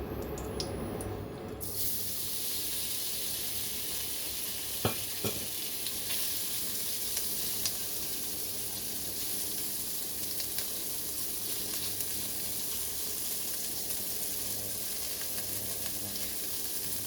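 Shrimp and egg fry in a pan with a steady, even sizzle that continues throughout, broken by a couple of faint clinks near the start.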